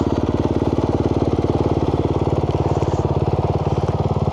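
A motorcycle with an aftermarket exhaust pipe idles loud and close, its engine pulsing in a fast, even, throaty rhythm that never lets up.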